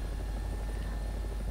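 Helicopter rotor and engine drone steadily in the War Thunder video game, a constant low throbbing hum with a faint high whine, loud and alone with no talk.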